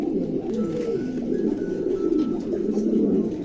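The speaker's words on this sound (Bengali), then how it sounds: "চমৎকার এক জোড়া কবুতর" A pair of pigeons offered for sale coo continuously up close, low rolling throaty warbles overlapping into a steady murmur over a few seconds, with no talking.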